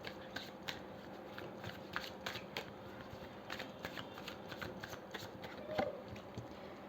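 Tarot cards shuffled by hand at close range, a rapid, soft riffling and flicking that runs steadily throughout the quiet room.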